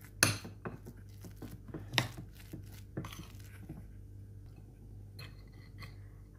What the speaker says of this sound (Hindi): सबको मिक्स कर लें अच्छी तरीके से.